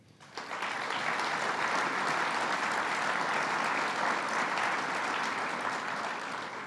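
Sustained audience applause at a Western New York budget event with Governor Cuomo, a dense wash of many hands rising quickly and holding steady and loud throughout, with no voices over it.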